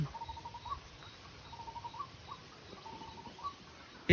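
Faint bird calls repeat every second or so, short and thin, over a low background hum of insects.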